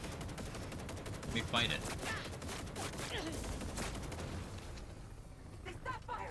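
Rapid gunfire from a video game battle rattles continuously in dense bursts, with shouted voices talking over the shooting throughout.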